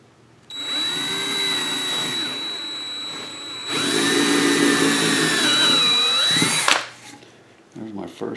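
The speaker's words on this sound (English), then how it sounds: "let me get this one drilled out" A power drill bores a hole into hardwood for an orchid mount, a steady high whine in two long bursts, louder in the second, before it winds down and stops, with brief talk at the end.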